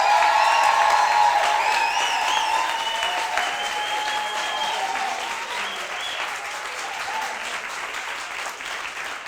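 An audience at a French pitch night applauds loudly, a dense burst of clapping with some whistles and cheers that slowly thins out over several seconds.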